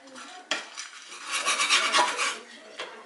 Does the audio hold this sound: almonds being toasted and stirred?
yes